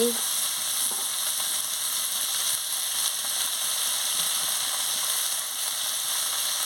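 Eggplant, potato, carrot and flat beans sizzle steadily in a pan for a fish curry, seasoned with cumin, coriander powder and green chillies, a loud, continuous close-up frying hiss with faint stirring and no talking.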